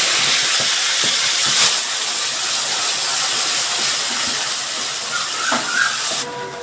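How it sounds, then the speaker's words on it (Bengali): Onion and garlic paste dropped into hot oil with white cumin seeds hisses in a loud, continuous sizzle, broken by a few soft knocks, before cutting off abruptly near the end. "এবার দিয়ে দিচ্ছি আমি পেঁয়াজ রসুন বাটা"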